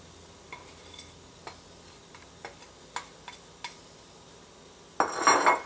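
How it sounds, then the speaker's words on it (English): Spoon stirring shrimp alfredo sauce with vegetables in a pan: scattered light metallic taps and scrapes at an uneven pace, quiet, then a louder, longer clatter of cookware at the end. "Gently stir it together."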